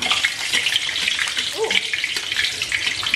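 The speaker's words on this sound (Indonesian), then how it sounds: "Pastikan minyaknya itu banyak, udah gitu panas. Jadi kita coba goreng satu ya." Pastel pastries fry in plenty of hot oil, giving a steady crackling sizzle with small bursts and pops throughout.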